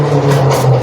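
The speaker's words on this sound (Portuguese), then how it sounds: "Olha o barulho desse carro." A loud car or motorbike passes on a residential street close by, a steady, droning engine hum that stays strong and near for the whole brief moment.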